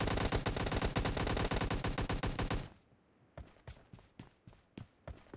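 Video game gunfire: a loud, rapid automatic burst runs continuously for a few seconds, then gives way to a quieter string of single shots spaced out at a steady rhythm.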